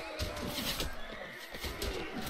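A horse neighs in the medieval combat game Mount & Blade: Warband, a short whinny over busy battle noise and scattered hoof-like thumps, with no voices.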